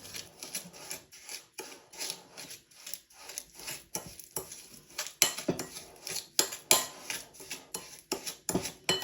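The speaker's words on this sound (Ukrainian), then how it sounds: "Вершкове масло має бути таке м'ягеньке, щоб ми його могли гарно з цукром перемішати в однорідну масу." Soft butter is creamed with sugar in a bowl, making a steady rhythmic scraping and rasping as the utensil drags around the bowl in repeated close strokes, with no speech.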